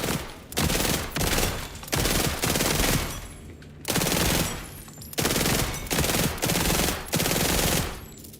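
Bursts of automatic gunfire in Borderlands 4 shooting at floating Ripper orbs, loud rapid volleys in short repeated strings with brief gaps between them, close and dominant.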